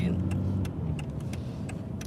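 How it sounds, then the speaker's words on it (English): Car traffic on a Houston road at rush hour, heard as a steady, close engine and road rumble from inside a vehicle, with faint clicks and a voice now and then. "Oh, this Houston traffic."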